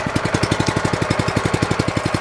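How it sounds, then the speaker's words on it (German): A Protea 510 groomer's engine idles in a rapid, even chugging pulse, close and loud, with no voices over the mechanical beat. "Ich mache sie nochmal an. So läuft sie jetzt"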